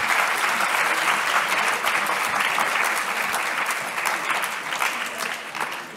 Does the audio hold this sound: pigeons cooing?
no